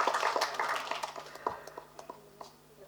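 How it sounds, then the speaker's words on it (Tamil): An audience claps together in a scattered, fading round after a film trailer event, sharp hand claps thinning out over a few seconds with faint voices beneath. "உண்மையான கைத்தட்டு."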